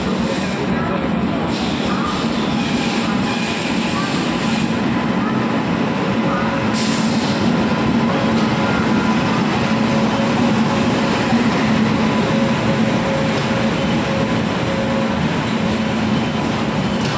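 The Tamilnadu SF Express passenger train arriving at Vijayawada station gives a steady, loud rumble of rolling wheels and carriages that holds without a break, with faint clatter on top.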